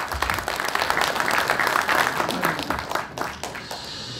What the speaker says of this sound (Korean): 힘찬 박수로 맞이하도록 하겠습니다.